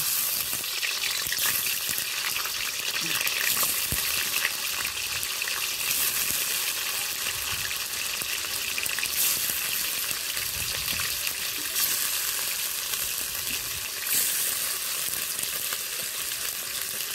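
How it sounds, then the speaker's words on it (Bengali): Steady, bright sizzling of paneer cubes frying in hot oil, loud and continuous throughout, with no one talking. "তেল গরম হয়ে গেছে, এবার পনিরগুলো দিয়ে দেব"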